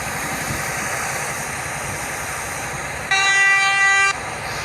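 A train horn in the Roblox Train Simulator game sounds a loud, steady one-second blast over a constant rumbling engine drone, with no talking.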